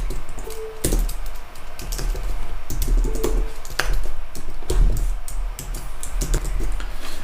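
Fast, steady typing on a computer keyboard while writing code, with a close, crisp clatter of keys in quick bursts and a few heavier key strikes, and no voices.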